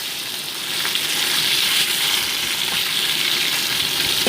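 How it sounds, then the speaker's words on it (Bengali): Pomfret fish frying one by one in hot mustard oil in a kadai, a dense continuous sizzle that swells slightly after the first second and stays loud and close, with no voices. "এবার একে একে মাছগুলোকে আমি ভেজে নিচ্ছি।"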